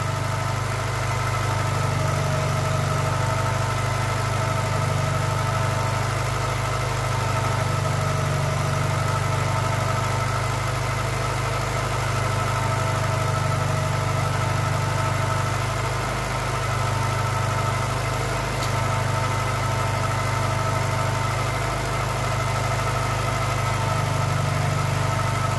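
An old Volkswagen Polo 86C engine idles steadily and close, a smooth, even low rumble with a faint mechanical whine that holds unchanged throughout, with no talking.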